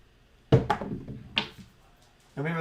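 Dice thrown on a craps table rattle and clatter in a few quick hits, then a sharper bounce lands about a second later. A voice starts speaking near the end.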